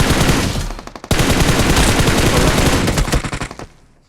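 Automatic gunfire in the battle royale game BGMI, loud sustained bursts of rapid shots that break briefly, resume, then taper into scattered rounds.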